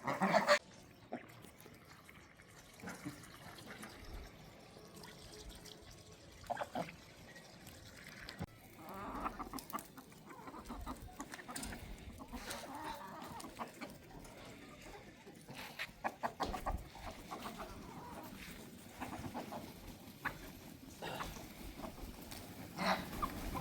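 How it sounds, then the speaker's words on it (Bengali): Young ducks raised on a village farm quack and call in a steady, busy chorus throughout, mid-distance and fairly faint, with scattered outdoor noise and no talking. "এই আমাদের বাচ্চা হাঁসগুলো নিয়েছিল দাদা,"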